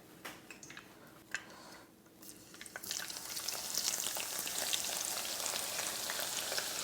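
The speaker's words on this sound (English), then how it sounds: "now that the oil, as we could hear it, is bubbling, is getting hot, I have some onions already" Onions hit hot oil in a pan and set off a fizzing, crackling fry that starts quiet and swells into a steady loud sizzle for the last four seconds, with no talking.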